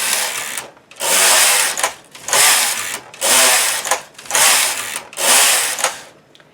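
A knitting machine carriage runs across rows of garment yarn at garment tension, giving five loud, whirring mechanical passes separated by short pauses, close and with no voice over it.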